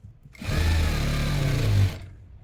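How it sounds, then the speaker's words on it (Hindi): Sewing machine running a continuous stitch along the edge of stretchable winter blouse fabric, a steady close motor whir lasting about a second and a half with no talk. "हम और एक बैठी सिलाई भी लगा देते हैं किनारे किनारे पे"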